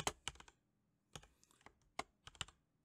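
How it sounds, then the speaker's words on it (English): Computer keyboard typing while entering a name in FreeCAD 0.19, quick bursts of close keystrokes with short pauses between, alone without talk. "So I like to type in the name, like let's say outer or circle"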